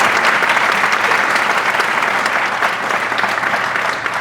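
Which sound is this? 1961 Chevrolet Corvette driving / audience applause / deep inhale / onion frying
audience applause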